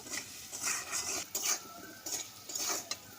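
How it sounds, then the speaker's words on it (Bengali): Potatoes with salt and turmeric fry in a pan while a utensil stirs them, giving irregular metallic scrapes and clinks against a faint sizzle, close by, with no talking. "আর হলুদ গুঁড়ো দিয়ে ভালো করে নাড়াচাড়া করে লাল লাল করে আলুটা ভেজে নেব"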